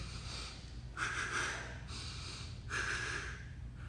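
During a live martial-arts training session, two sharp, forceful breaths are pushed out through the nose about two seconds apart, close to the listener over a low, steady room hum.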